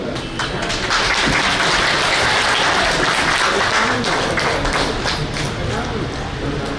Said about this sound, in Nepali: ताली चाहिँ अलिकति कम भयो जस्तो लाग्यो।